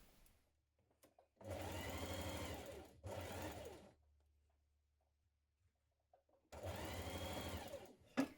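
A sewing machine stitches a 1 centimetre shoulder seam on a blouse in three loud bursts of rapid mechanical whirring, separated by quiet pauses.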